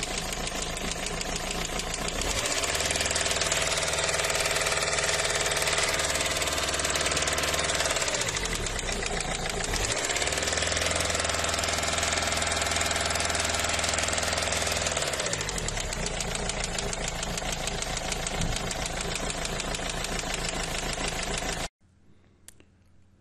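A 1.5 dCi diesel car engine running with a persistent ticking, knocking clatter over a steady idle hum, loud and close, with two dips in engine pitch before the sound cuts off abruptly.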